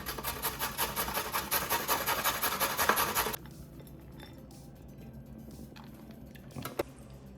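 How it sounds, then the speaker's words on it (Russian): Carrot being grated on a coarse grater for plov, brisk rhythmic rasping strokes close up for about three seconds, then stopping into quiet kitchen room tone with a faint clink. "Морковь натираю на крупной терке"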